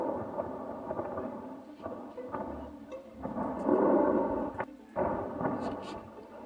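Distant explosions from an Israeli attack on Tehran, heard as repeated low rumbling booms that swell and fade over a continuous roar, with a few sharper thuds; no voices.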